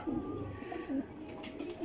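Soft, low cooing from a flying (parwazi) pigeon, repeated a few times at close range over a quiet background.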